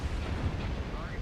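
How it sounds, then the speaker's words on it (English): Jump jets firing on a mech in MechWarrior Online, a dense continuous low rumbling roar with steady loudness throughout, close and heavy, with no clear separate bursts. "Firing the jump jets doesn't help"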